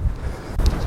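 Low, steady wind rumble buffeting the microphone outdoors, with a brief faint hiss partway through.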